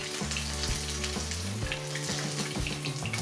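Sigara börek, dough rolls filled with feta and parsley, sizzle and crackle as they fry in oil in a pan, a close, steady bubbling with small pops and faint clinks of handling.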